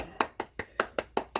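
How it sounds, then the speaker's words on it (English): Hands clapping in a quick even series of about seven crisp, close claps, fairly faint, with no talk over them. "You get a large clap because this is good."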